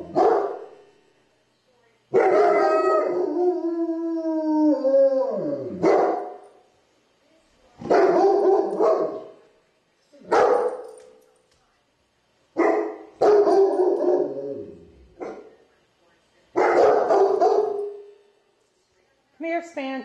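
A dog on a rainy walk barks and howls in a series of drawn-out, wavering calls, about seven separate bursts with short silences between them, loud and close.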